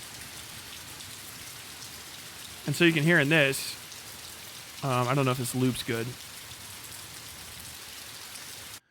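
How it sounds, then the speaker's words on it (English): A recorded rainstorm patters steadily on a roof and the ground, a dense continuous wash of drops, while someone talks over it in two short stretches. "That's an actual rainstorm."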